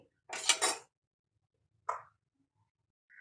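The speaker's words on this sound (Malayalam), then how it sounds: "നമുക്ക് കുക്കർ അടച്ച് 2 വിസിൽ വരുന്നത് വരെ വേവിക്കാം." A pressure cooker lid shuts over chicken stew with a sharp metallic clatter near the start, then a single shorter clink a moment later, with quiet gaps around them.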